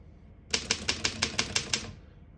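An antique 1920 Underwood No.5 desktop typewriter with Elite typeface types a quick, even run of about eight crisp key strikes, close and clear in a quiet room.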